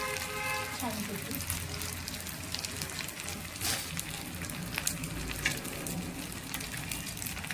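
Potato koftas deep-frying in hot oil for a street-style chaat, a dense, continuous crackling sizzle close by, with a voice talking over it.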